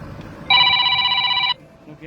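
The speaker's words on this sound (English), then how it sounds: "look out, Richie's ringing" A mobile phone rings close by, one steady electronic ring lasting about a second, with someone talking around it.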